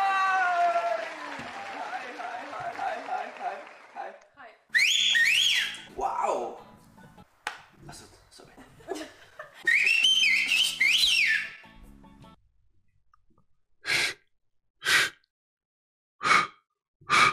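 Studio audience at a German comedy show breaks into applause and shrill whistling, loud bursts and cheers swelling and fading, followed by several short sharp whistle blasts at the end.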